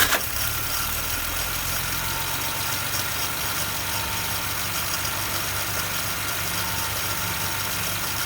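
Vintage Mopar engine idling roughly when cold after a cold start with the choke closed, a steady close rumble with an uneven, loping pulse and mechanical vibration continuing throughout, no talking.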